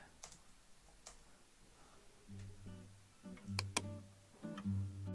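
Comment being typed on a computer keyboard, a quiet scatter of light clicks and taps, irregular and close, over a low humming tone that swells in short pulses.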